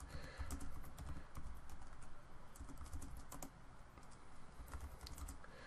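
Fast, steady typing of SQL code on a computer keyboard, with crisp individual key clicks in quick succession over a low background hum, close and fairly quiet with no talking.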